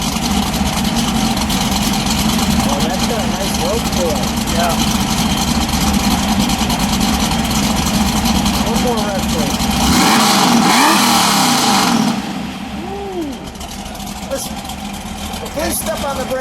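A 1967 Chevrolet Camaro Z28 in Granada Gold idles with a loud, rough, loping rumble close by, briefly swelling before the engine note drops lower; people talk over it.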